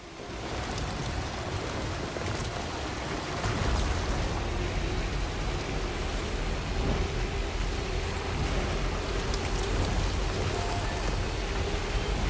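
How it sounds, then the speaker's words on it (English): Heavy rain in the video game Death Stranding, a dense, steady downpour that fills the whole clip and grows a little heavier after a few seconds, with faint tonal sounds underneath. "Yeah, it feels like this rain is definitely heavier than usual."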